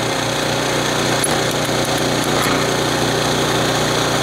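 Jackhammer pounding into frozen ground, a loud, continuous rattling roar that holds steady and close throughout with no pauses.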